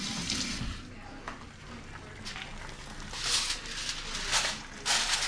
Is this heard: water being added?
yes